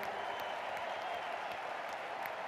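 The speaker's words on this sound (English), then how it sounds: "Let's give them a big round of applause and acknowledge them" Steady, dense round of applause from a crowd at a business opportunity meeting honoring executive team leaders, continuous and fairly distant throughout.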